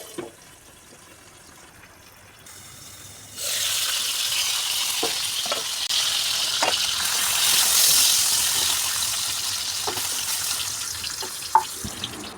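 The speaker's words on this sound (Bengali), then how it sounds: "এই যে নুন হলুদ মেখে রাখা পটলগুলো দিয়ে ভালো করে নাড়াচাড়া করে ঢেকে দেব।" Pointed gourd rubbed with salt and turmeric drops into hot oil in a wok and erupts into a loud, continuous sizzle, following a few seconds of quieter running-water sound, with occasional sharp clicks of stirring.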